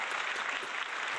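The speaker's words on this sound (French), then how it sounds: "Nous applaudissons le nouveau maire de Montreuil." Crowd applause for the newly elected mayor of Montreuil, a dense steady wash of many hands clapping with no gaps, moderately loud throughout.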